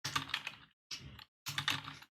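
Typing on a computer keyboard comes in three short bursts of rapid key clicks, close and clear, with brief silent gaps between them and no talking.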